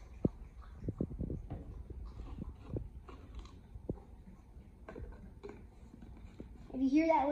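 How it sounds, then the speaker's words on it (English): Close, wet licking and lapping sounds come in quick irregular bursts as a dog laps up spilled Gatorade, with a brief high squeal near the end. "if you end up hearing licking noises"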